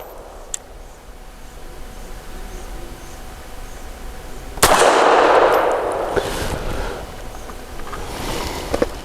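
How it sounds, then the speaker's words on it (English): An FN Browning BDA 380 pistol fires PMC Bronze ammunition at a range, giving one sharp, loud report midway that leaves a lingering hiss of ambience. "My 5 shots from 7 yards using the same PMC bronze"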